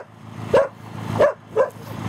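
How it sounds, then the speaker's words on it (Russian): A small dog in a rural garden plot gives three short barks at an even pace, fairly close, over low background noise. "Тут у него собачка бегает."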